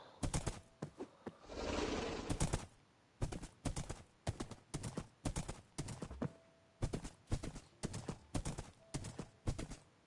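Horse hooves clip-clopping in Minecraft, a quick run of crisp, evenly spaced steps close and clear, pausing briefly before resuming in short bursts.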